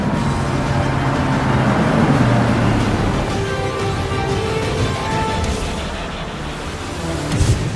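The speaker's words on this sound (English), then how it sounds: "let's do a quick lap here on the racetrack" A Porsche Panamera GTS lapping a racetrack, its engine a steady loud roar that rises and falls through gear changes, with a swelling rush as it passes close near the end.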